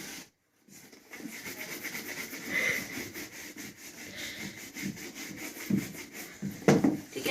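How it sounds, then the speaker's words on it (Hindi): Leather DMS boots are polished by rubbing, giving a steady close brushing and rubbing texture with a few stronger strokes near the end. The sound is fairly quiet and follows a brief silent gap at the start. "तो ऐसे ही करके हम लोग अपने नेक्स्ट शूज में भी पॉलिश कर लेंगे।"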